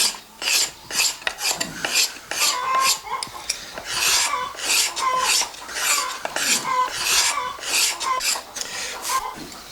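Repeated rhythmic rasping strokes of a piece of cut glass scraping over a carved wooden clog (madreña) to smooth its surface, close and fairly loud, steady back-and-forth bursts with no talk.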